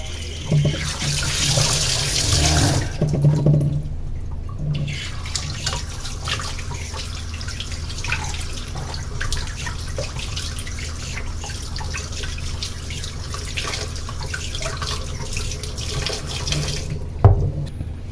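Tap water runs steadily into a sink as a bitter gourd is washed with its skin left on, a close continuous splashing flow with brief louder gushes at the start and near the end.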